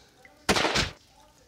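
A single sharp gunshot from the Last Day Survival game cracks loudly and cleanly, decaying over about half a second against a quiet background.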